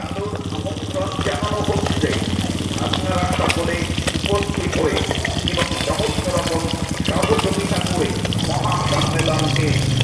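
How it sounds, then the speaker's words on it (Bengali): Pieces of bhola fish fry in oil in a pan over low heat, giving a continuous close sizzle with some stirring, partly under a voice. "মাছ ভাজার সময় আঁচটা হালকা রাখবে না হলে মাছ পুড়ে যাওয়ার সম্ভাবনা থাকে"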